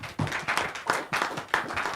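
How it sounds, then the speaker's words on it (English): An audience on a live call-in program claps for a woman, with several rhythmic bursts of hand claps from a small group, fairly close and without talk. "Una no go clap for this woman"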